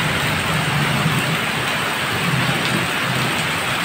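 Heavy rain pours steadily with little wind, a dense unbroken hiss with a low rumbling undertone running the whole time and no voices.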